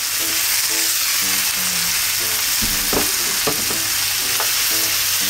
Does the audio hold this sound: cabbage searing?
yes